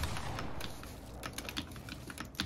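Keystrokes on an Apex Pro keyboard fitted with GMK Laser keycaps, a steady run of close, crisp clacks at a quick typing rhythm with no voices.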